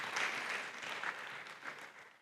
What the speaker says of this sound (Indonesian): Setuju beri tepuk tangan buat nama Tuhan